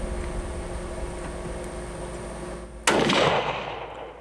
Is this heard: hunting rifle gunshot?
yes